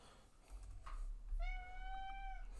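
Cat giving one drawn-out, tonal meow, fairly quiet over a low background hum, with no talk.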